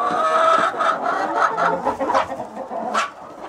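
Hens of the Adler Silver breed cluck steadily and close by at morning feeding on a farm, with a rooster among them and overlapping calls throughout.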